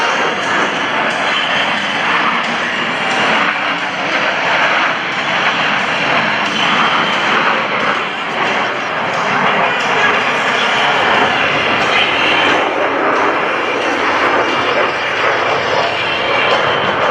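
Four US Navy Blue Angels jets fly in tight diamond formation at an air show, a loud, sustained roar of jet engines that holds steady throughout, with a public-address voice faintly under the noise.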